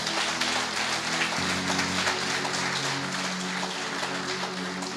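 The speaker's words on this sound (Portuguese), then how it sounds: "Aplauda bem forte a Ele." An audience at a church service claps steadily, a dense, continuous wash of applause with a low musical drone underneath, filling the whole stretch.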